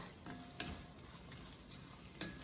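Ramen made with zero-calorie noodles and chili flakes is stirred in a pan. A faint low sizzle is broken by a couple of soft scraping knocks from the utensil.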